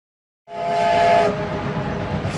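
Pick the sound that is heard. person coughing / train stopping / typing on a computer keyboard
train stopping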